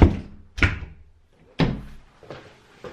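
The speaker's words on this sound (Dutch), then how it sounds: "En ik ga nu een klapperende deur dicht doen." A rattling indoor door being pushed shut, several heavy thuds and slams spaced across the moment, close and loud with short decays, no talking.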